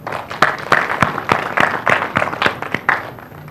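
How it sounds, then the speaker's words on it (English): At a political media event, an audience claps rhythmically for a few seconds, steady and fairly close, the hand claps landing in a quick repeating beat. "a round of applause for everyone"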